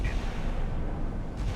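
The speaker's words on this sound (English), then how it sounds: "we're still engaging that missile with the 5-inchers" Naval 5-inch deck guns blasting at an incoming missile during a sea battle game, a dense, continuous rumble of heavy booms with no distinct gaps, steady and fairly loud throughout.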